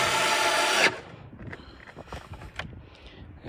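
A low-torque Craftsman electric screwdriver buzzing loudly for under a second while working on a Mazda spoiler, then cutting off and leaving faint handling clicks and taps.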